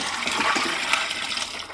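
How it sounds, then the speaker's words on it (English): Water poured off boiled aegerine crystals, a steady splashing, gushing stream running close and fairly loud for its whole length, with no talk over it. "Let's pour off that water."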